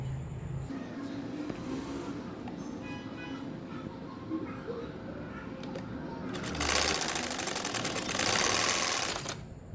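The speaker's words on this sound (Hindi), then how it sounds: "मैं उसी शेप में इसको सिलाई लगा रही हूँ।" A sewing machine stitches a ban collar neck on a ladies' garment in a quiet setting, its motor whirring in soft bursts, then in two louder sustained runs near the end.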